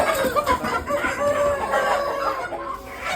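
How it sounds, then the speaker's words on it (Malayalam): Free-range roosters kept for meat on a farm plantation crow and cluck together, a dense, continuous chorus of several birds close by with no talk. "ഇതിനകത്ത് ഇപ്പം നമ്മൾ പൂവൻകോഴിയെ മാത്രം മാറ്റിയിട്ടേക്കാണ്."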